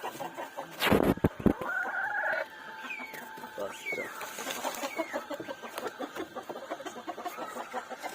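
A pet rooster in a backyard cage where the other birds have just been caught: a loud, close crow and burst of flapping, then a run of steady clucking, with a voice faintly heard.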